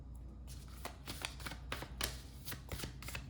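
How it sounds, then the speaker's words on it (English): A Sacred Destiny Oracle card deck shuffled by hand, a steady run of crisp riffling bursts and soft slaps close up, with no talking. "This is the Sacred Destiny Oracle deck, by the way. Let's go ahead and shuffle this one too."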